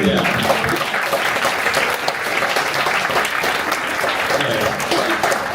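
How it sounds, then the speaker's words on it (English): Applause from a live audience, dense, steady clapping at close range that holds for the whole stretch without breaks or voices. "that deserves a round of applause."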